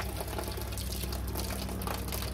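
Water pours steadily into a small mini aquaponics tank built as a school garden model, a close, continuous gurgling splash with no talking.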